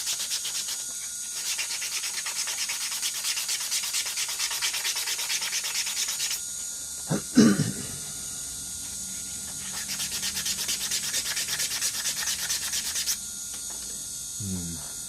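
A steady high-pitched grinding whir from a small rotary tool with a rubber wheel smoothing a 3D-printed plastic part continues throughout, pausing briefly midway with a few knocks, then resuming.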